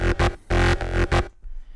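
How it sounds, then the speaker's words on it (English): Distorted synth processed with the free Camel Crusher plugin: four loud, buzzing, harmonically dense stabs in a choppy rhythm, cutting off into a faint tail. "And now just Camel Crusher, which is a free plugin, makes it sound like this."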